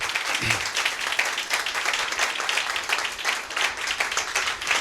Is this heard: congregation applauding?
yes